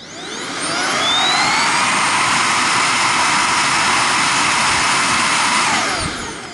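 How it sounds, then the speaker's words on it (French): Powerful high-pitched motor whine from Dyson V8, Dyson V10 and Xiaomi Roidmi F8 cordless stick vacuums ramps up, holds at a steady loud roar with a rising tonal whistle, then winds down near the end. "ce qui marque quand on allume ces deux aspirateurs, c'est le son qu'ils émettent"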